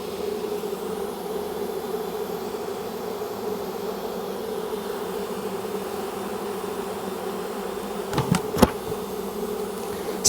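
A dense, steady hum of many honeybees buzzing during the rescue of hives from a condemned building, continuous and close, with a couple of brief knocks near the end and no talk.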